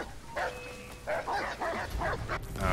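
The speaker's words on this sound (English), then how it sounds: "Oh, the damn dog." A dog in the video game Assassin's Creed 3 barks repeatedly in quick, yappy bursts, fairly close, over a steady game soundscape with no talking.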